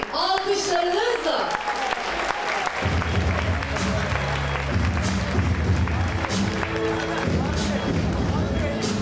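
An audience applauds for politician Gürsel Tekin of the Republican People's Party, dense sustained clapping filling the hall loudly throughout, with a voice speaking over it early on.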